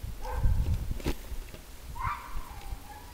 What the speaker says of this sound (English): The dog's still barking about something.